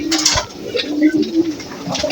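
Pigeons coo nearby in soft, repeated low throaty calls, fairly loud and close, over a quiet background.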